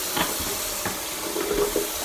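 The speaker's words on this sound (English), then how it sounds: "I'm going to start filling up this with some water." Tap water runs into a container for laundry washing, a soft hissing splash with a few brief gurgles and clinks, close and fairly steady, no voices.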